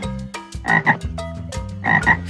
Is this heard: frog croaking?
yes